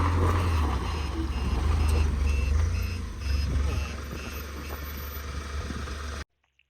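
A vehicle backs up at night in a jungle setting, its engine idling low and steady while faint, evenly spaced reversing beeps repeat throughout, then the sound cuts off abruptly near the end.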